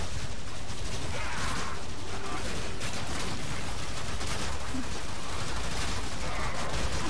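Dense, continuous gunfire and explosions from a heavy gunner enemy in the shooter game Warframe, a loud rattling barrage with booming bursts throughout and no pauses.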